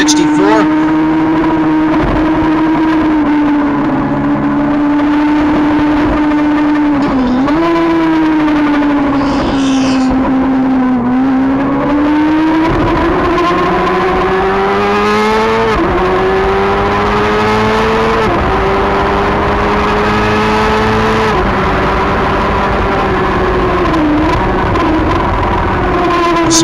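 Racing motorcycles, among them a Yamaha FZR 400, scream around a track in a women's Formula Femme final, with high engine whines rising and falling through gear shifts, loud and continuous, under steady race commentary.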